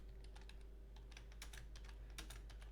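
Quiet typing on a computer keyboard, a steady run of light key taps with occasional louder clusters over a low background hum.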